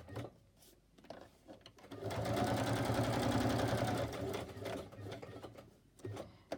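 A sewing machine stitches around a paper tag made from old book pages, running in a steady close whir for a few seconds between quieter handling sounds.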